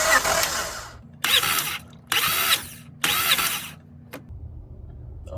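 A Honda Accord engine cranks over during a compression test with the throttle held wide open, giving three or four close, loud bursts of starter whirring separated by brief gaps before it falls quiet to a low hum.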